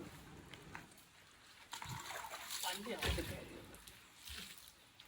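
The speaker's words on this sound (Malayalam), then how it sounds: "വെള്ളം ഒഴിക്കുന്നു." Water poured over a car during an outdoor home car wash: soft splashes and sloshing, fairly faint, swelling in the middle, with people talking nearby.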